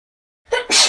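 A single sharp human sneeze indoors by a counter, silent at first and then a loud two-part burst with an inhaled lead-in and an explosive release, close to the listener.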